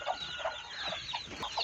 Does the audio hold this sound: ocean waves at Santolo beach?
no